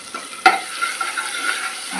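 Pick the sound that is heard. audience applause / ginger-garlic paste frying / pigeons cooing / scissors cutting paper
ginger-garlic paste frying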